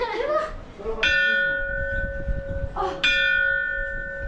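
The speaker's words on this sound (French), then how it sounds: "je vais sonner la cloche de la fausse ligne de l'équateur" Two strikes of a bell at a mock equator line monument in Ecuador, each ringing out clear and sustained with a long decaying tone, separated by about two seconds, with faint outdoor murmur beneath.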